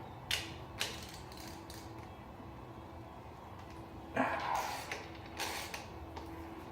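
A ratchet works loose the head bolts on a 1982–1992 Camaro engine during teardown, giving a few faint clicking bursts spaced apart over a quiet background, without speech.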